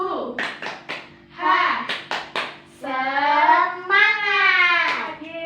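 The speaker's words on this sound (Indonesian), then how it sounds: "Yuk, tepuk semangat." An elementary classroom of children claps a quick rhythmic pattern in bursts, then voices chant together in a drawn-out cheer, close and lively.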